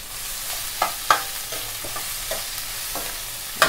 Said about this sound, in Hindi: बस मिक्स कर दीजिए।